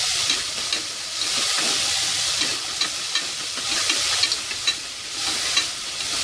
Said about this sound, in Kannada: ಈ ರೀತಿ ಸಣ್ಣದಾಗಿ ಹೆಚ್ಕೋಬೇಕಾಗುತ್ತೆ, ಹಾಗೆ ಚೆನ್ನಾಗಿ ಫ್ರೈ ಮಾಡ್ಕೋಬೇಕಾಗುತ್ತೆ.